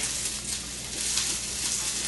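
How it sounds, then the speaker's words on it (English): Beans sizzle steadily in a hot pan, a continuous crackling hiss that holds at an even level throughout, with no talking. "listen to that sizzle"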